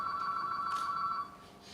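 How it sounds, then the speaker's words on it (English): A telephone bell rings steadily from a corner of a lecture room, a bright sustained trill that carries clearly before dropping off near the end, with no speech over it. "That's the phone in the corner, I think."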